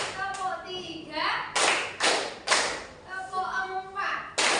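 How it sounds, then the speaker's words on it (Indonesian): Children in a classroom clap along to a counted pattern, several loud group claps in short bursts mixed with thumps and chanting voices between them. "Tepuk 1, tepuk 2, tepuk 3,"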